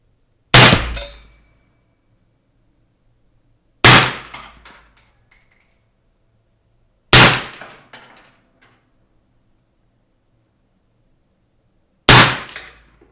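An AR-15 short-barreled rifle with an adjustable gas block fires four loud single shots at a shooting range, each a sharp crack several seconds apart with a brief ringing decay.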